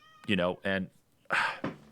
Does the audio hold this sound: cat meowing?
yes